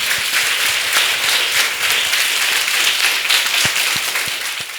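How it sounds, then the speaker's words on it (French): Children applaud loudly for themselves at an event, a dense wash of clapping from a crowd that holds steady for a few seconds and then begins to thin out. "Est-ce que vous pouvez applaudir très fort pour vous-même?"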